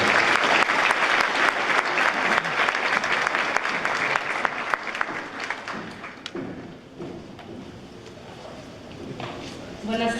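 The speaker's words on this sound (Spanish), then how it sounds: "Les pido un aplauso para Adriana Páez Recalde" A panel audience at a personal data protection event applauds a speaker, with dense clapping that thins out and gives way to scattered claps and a brief murmur.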